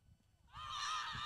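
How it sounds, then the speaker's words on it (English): Kookaburras call during a T20 cricket match at Maroochydore, Australia, a harsh, strident bird cry rising suddenly after a quiet moment and ringing on loudly, heard alone in the open air. "Kookaburras are out. If you're listening to this anywhere but Australia, don't be disturbed. It's a bird."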